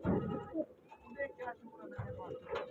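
Pigeons coo softly in a low, repeated burble, mixed with other background chatter and movement nearby.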